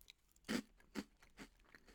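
Three distinct crunchy bites of coffee-infused cocoa cereal, close to the microphone, each a short loud crackling burst followed by quieter chewing; no talking.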